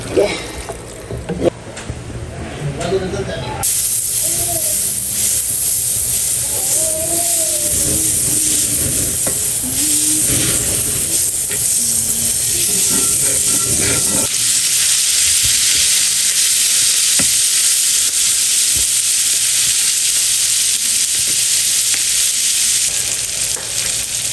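Crispy pork sisig sizzles and crackles steadily in a hot pan, a loud continuous frying hiss with occasional stirring scrapes, and a voice talks briefly early on.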